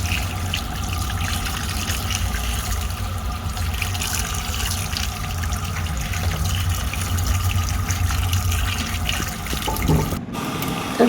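Mutton pieces washed under a steady stream of running tap water, a continuous close splashing trickle lasting throughout with no talking, briefly interrupted near the end.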